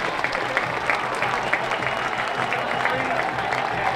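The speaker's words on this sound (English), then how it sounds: "Crowd starting to get loud, urging on the defensive stand here" A high school football stadium crowd cheers and applauds steadily during a goal-line defensive stand at JTO Stadium, a dense, continuous roar of many voices with no individual speech standing out.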